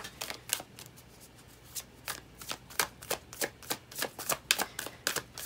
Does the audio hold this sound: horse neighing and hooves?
no